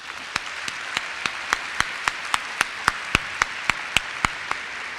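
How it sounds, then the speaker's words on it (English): An audience at an academic kick-off event applauds award nominees. Crisp, evenly spaced claps stand out in a steady rhythm above a softer wash of general clapping, all close and without speech. "ask once again that you recognize them with a round of applause"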